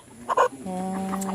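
A chicken clucks briefly and close up at a rural Bicol farmyard, followed by a steady sustained tone; short and fairly clear.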